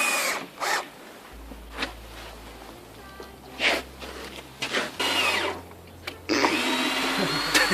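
A power drill drives screws through boards during house construction, with short whirring bursts of several seconds that stop and start, close and fairly quiet, with no talking.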